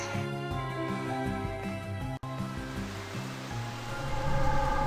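Steady rain hisses in the video game Slime Rancher beneath looping stepped game music, which stays loud throughout and briefly cuts out once midway.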